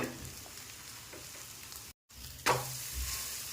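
Bottle gourd thalipeeth roasting on a pan gives a soft, steady sizzle, then a brief dropout and a sharper burst of sizzle as the flatbread is flipped, settling back to a quieter roast.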